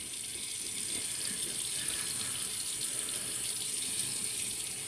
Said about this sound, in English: as I wet my face with cold water